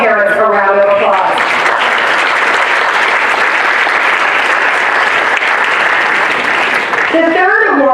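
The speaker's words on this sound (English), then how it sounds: "So let's give all of our parents a round of applause." A school ceremony crowd gives a sustained, loud round of applause for parents at an eighth-grade moving-up event, dense clapping that swells and holds for several seconds, with a voice speaking briefly at the start and again as it fades.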